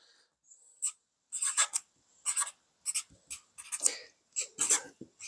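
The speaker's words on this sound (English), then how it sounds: "I'm obviously writing this much larger to show details." Pen or pencil writing on a sheet of 8.5 by 11 computer paper, close and fairly quiet, a series of short scratchy strokes in uneven bursts with brief pauses between them.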